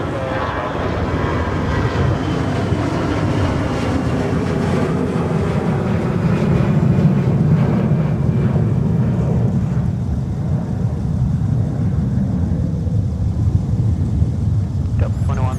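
An airliner departing from a runway at MSP airport in winter, a loud continuous engine roar with low rumble that holds steady and then slowly fades, with a voice talking over it.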